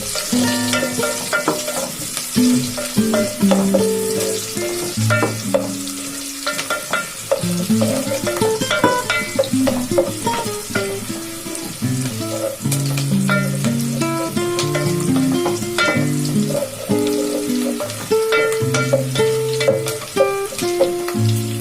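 Onions frying in a pan for pudina rice crackle and sizzle continuously, loud and near. Clinks and scrapes of stirring and pounded ginger-garlic paste break in, and no one speaks.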